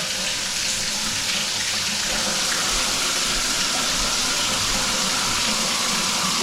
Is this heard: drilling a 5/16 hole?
no